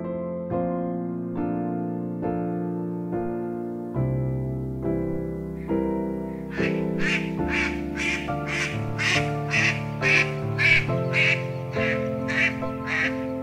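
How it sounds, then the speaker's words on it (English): A rapid series of mandarin duck calls, soft at first then a run of about a dozen quick, evenly spaced quacks, close and clear over a low drone. "Mandarin ducks."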